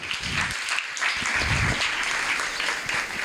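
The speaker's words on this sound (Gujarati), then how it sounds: "જોરદાર તાળીઓ આપણે." Applause fills a hall at a book release event for a leadership book. A crowd claps steadily and fairly loudly for a few seconds, with no speech.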